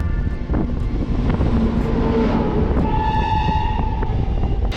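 A local train on the Kolkata to Baidyanath Dham route, running from Asansol toward Jhajha, rumbles loudly and steadily, with a sustained horn or whistle tone rising over the rolling noise.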